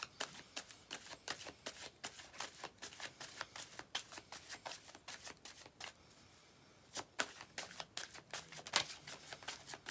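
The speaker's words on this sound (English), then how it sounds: "Let's give him a little bit more of a shuffle." A deck of tarot cards is shuffled by hand in quick crisp riffles and soft slaps, close up and fairly quiet, with a brief pause partway before the shuffling resumes.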